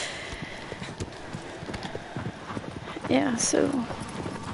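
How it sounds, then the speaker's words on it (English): Horse hooves clip-clop steadily in the video game Shadow of the Colossus, close and rhythmic, with a brief whinny near the end while someone talks over the galloping. "Okay, horse."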